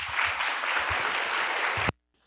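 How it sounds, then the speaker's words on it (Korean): Steady applause from an audience greeting a speaker at a talk on climate change and capitalism, even and sustained for under two seconds before cutting off abruptly. "몰리뉴 동지의 연설을 박수로 맞이하도록 합시다."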